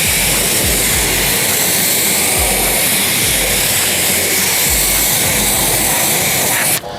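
Water spray rinsing a tire on a VW Golf R, a loud, steady hissing jet held close, with a few low thumps underneath and an abrupt change at the very end.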